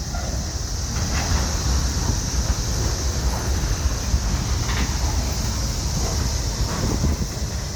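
A long freight train rolls past at Wartrace, Tennessee, a steady continuous rumble and rail noise filling the whole stretch, with wind buffeting the microphone throughout.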